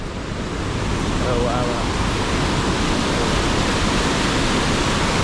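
Rushing water at a village lake in Konkan gives off a loud, continuous broadband roar, close and unbroken, with faint voices barely showing through.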